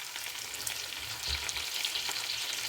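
Crushed green chili paste fries in a pan, giving a continuous close hiss and crackle with faint low scraping, no voices.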